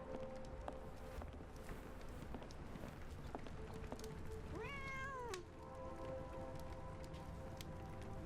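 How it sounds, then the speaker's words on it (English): A cat meows in the video game Sherlock Holmes: The Awakened, one rising and falling cry lasting under a second over steady ambient game background. "I heard a cat."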